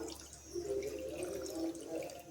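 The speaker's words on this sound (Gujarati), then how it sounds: "હવે આપણે અહીંયા મિક્સર જારની અંદર એક નાનો ગ્લાસ પાણી નાખીશું" A small glass of water poured into a mixer jar while cooking a capsicum and potato curry: a steady, fairly quiet trickle and splash lasting about two seconds.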